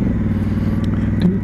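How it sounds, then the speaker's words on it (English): An adventure motorcycle rolls through a city neighborhood with a steady, loud, close engine rumble and a faint clatter. "Just riding through the neighborhood, not bothering anybody."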